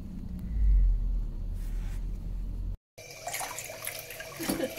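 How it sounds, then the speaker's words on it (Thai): Water runs steadily from a tap with faint clinks of dishes, a low rumble underneath, then a brief cut to brighter splashing. "มีคนมาห้างนั่งให้กำลังใจฮิวล้างจาน"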